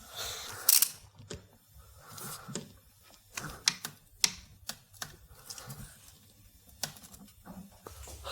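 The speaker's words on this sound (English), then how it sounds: "With the U-joint in position, I should be able to tighten it." A ratchet with a U-joint socket tightens a spark plug on a Jeep 4.7 V8, giving a series of quick, close clicking bursts with short pauses between them.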